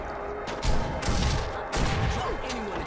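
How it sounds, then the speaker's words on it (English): Repeated gunfire in Saints Row 2, a burst of several close, loud shots hitting in quick succession against a dense, noisy game soundscape. "Oh, they're shooting me."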